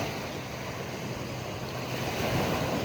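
Strong wind and breaking surf at a beach form a continuous, loud roar with wind buffeting the microphone throughout and no voices.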